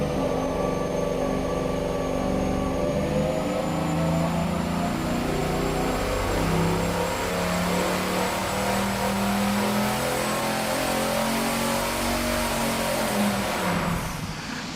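A V8 performance engine with worn piston rings runs under boost on an engine dyno, a loud, continuous roar whose pitch climbs steadily and then holds, alone without talk.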